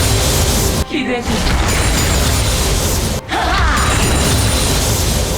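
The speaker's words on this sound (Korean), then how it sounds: "자이라의 올가미 덩굴" Zyra's snare vines ability in League of Legends: loud, continuous crashing and booming effects with two short gaps where sweeping, swooshing tones come through.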